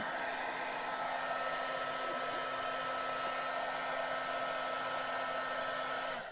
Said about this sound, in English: I do need to get my heat gun out real fast and try that